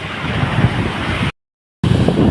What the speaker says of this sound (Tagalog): malakas lang ang hangin at saka malaki ang alon mga idol dito sa port